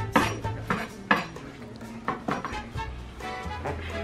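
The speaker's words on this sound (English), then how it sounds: "I'm trying to cut this onion" A knife cutting an onion on a board, with a series of close, sharp taps and clicks in an uneven rhythm, some pauses between strokes, and faint kitchen clatter.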